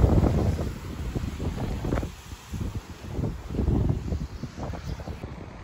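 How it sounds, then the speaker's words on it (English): Gusty wind buffets the microphone near the water at the northern tip of Sandy Hook, a loud, uneven low rumble rising and falling throughout, with no talking. "noise from the wind"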